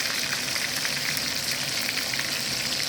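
Steak sizzles in a hot pan with garlic, a steady close crackling hiss with small spitting pops throughout and no voices.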